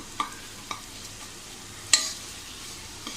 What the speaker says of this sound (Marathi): हे बघा आपला मसाला असा छान परतून झाला आहे